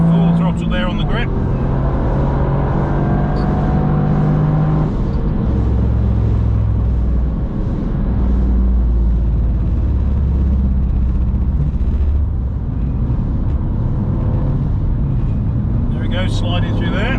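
A Toyota GR Yaris runs at full throttle on a damp Nürburgring Nordschleife during a track day. The engine drones loud and close, its pitch climbing and shifting through gears, while a voice talks over it.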